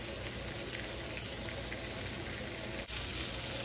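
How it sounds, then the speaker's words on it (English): Sausages sizzle in a frying pan, a steady close crackling hiss that stays even throughout with no talking. "Those sausages are sizzling."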